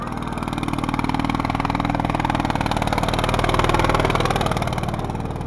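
A military-style tractor, painted and fitted out like an army vehicle, runs its engine steadily at a tractor race event, a loud continuous throb with slight rises in revs throughout.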